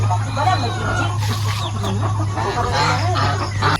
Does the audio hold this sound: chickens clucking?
yes